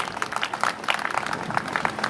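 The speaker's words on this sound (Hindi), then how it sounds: "एक बार जोरदार ताली।" An audience at a district-level Manas Gan singing competition in Ganj Mandi, Durg, claps steadily and loudly. The dense, continuous applause fills the whole moment.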